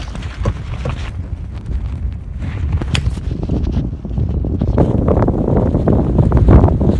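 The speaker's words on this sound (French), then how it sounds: "Il y a un gros vent ici là, là-haut" Steady roaring wind buffets the microphone throughout on a golf course, with low rumbling gusts that strengthen toward the end.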